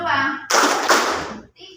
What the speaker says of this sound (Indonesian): Tepuk 1. Tepuk 2. Tepuk 3. Tepuk 2.